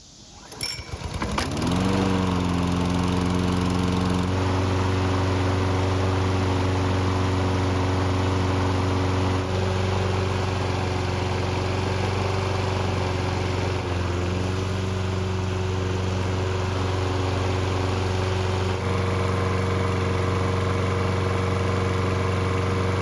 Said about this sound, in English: So it's been running for about 10 minutes and the engine should be good and hot.